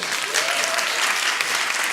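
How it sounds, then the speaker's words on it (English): Loud, dense audience applause at an urban arts honor society event, steady clapping from a full room throughout. "give yourself a round of applause"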